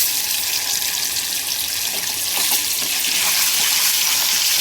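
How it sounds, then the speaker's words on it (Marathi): Ginger paste fries in two spoons of hot oil over a lowered gas flame: a close, steady, loud sizzling hiss with faint scraping that holds throughout. "बघा आलं पेस्ट टाकून चांगली भाजून घेतली"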